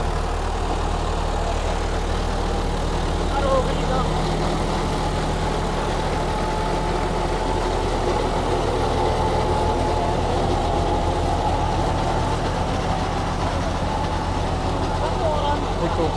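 A New Holland tractor engine of about 50 hp runs steadily at a low drone close by, a continuous rumble throughout, with people talking over it.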